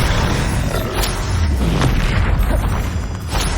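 A Bombarda spell blast in the video game Hogwarts Legacy: a loud, dense booming roar that fills the whole stretch, with rumbling low end and a few sharper bursts inside the continuous din.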